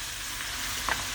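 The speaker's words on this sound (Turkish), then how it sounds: "Şimdi soğanla 1-2-3 dakikada soğanla kavuracağız." Chopped onions sauté in a hot pan for a Turkish green bean dish, giving a steady soft sizzle and crackle with one brief stir or scrape near the end.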